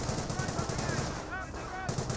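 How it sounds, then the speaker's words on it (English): Rapid, continuous machine-gun bursts from a Bren carrier in the World War II strategy game Company of Heroes rattle in a dense stream, with faint voices in the background. "Now we got the Panzer Grenadiers receiving quite a bit of fire from this Bren carrier."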